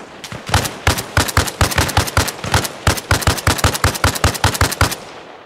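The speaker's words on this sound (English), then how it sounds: "Whoa, taking fire! Oh, shots." Rapid gunfire in the Arma Reforger military shooter game: loud, close bursts of sharp shots in quick rhythmic volleys, nearly continuous across the whole stretch with only brief gaps.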